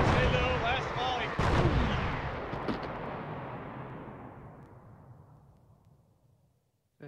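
Artillery fire in a wartime battle reenactment: a single sharp distant boom that rolls out into a long echoing rumble, fading away over several seconds with faint crackles.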